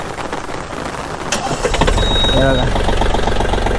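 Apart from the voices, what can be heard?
Mahindra OJA tractor engine starting and idling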